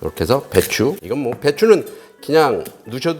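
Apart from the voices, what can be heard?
None of the usual background noises is heard.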